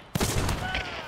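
A video game explosion in DeSalle Forest bursts loud and close, followed by a dense rumbling roar mixed with gunfire-like crackle.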